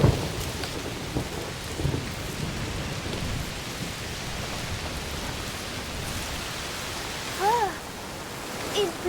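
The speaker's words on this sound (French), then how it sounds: "Il pleut très fort. Oui, un orage de chaleur sûrement." Heavy rain pours steadily in a dense wash of noise during a thunderstorm in the video game A Plague Tale: Requiem, with a low rumble of thunder early on and faint tones near the end.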